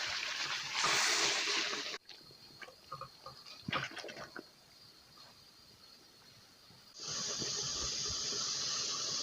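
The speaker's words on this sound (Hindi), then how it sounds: "अब मुरब्बे में उबालना शुरू है।" Apple murabba syrup boiling in a pot with cooked apples just added, giving a steady hissing, bubbling simmer that swells loud at the start and end with quieter sputtering pops between.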